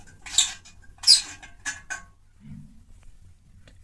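An old metal kerosene pump stove is handled in a village haveli in Rajasthan, producing a few sharp metallic clinks and rattles spaced apart, then a soft low thud, with no talking.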